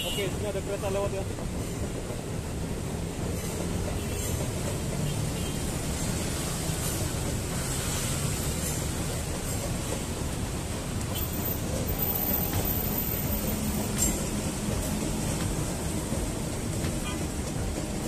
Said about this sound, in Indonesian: sini ada kereta lewat ya